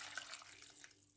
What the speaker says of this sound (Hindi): तकरीबन 2 कप पानी डाल दिए।